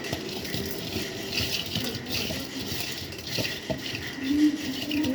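Spice masala is mixed by hand in a bowl, producing soft close rustles, pats and light taps against the bowl in an uneven, continuous rhythm.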